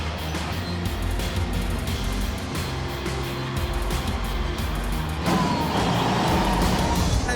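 A 48-year-old bulldozer engine runs with a steady heavy rumble throughout, working on a steep outback opal-mining site, growing a little louder and rougher near the end as the machine strains.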